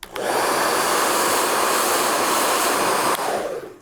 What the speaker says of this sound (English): So I have my handy dandy blow dryer. I'm gonna put it on hot.